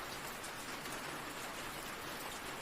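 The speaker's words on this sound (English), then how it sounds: "the sound of rain" Steady rain falls on a mountain cabin during a storm, a dense, even hiss of drops running unbroken and fairly close with no voices.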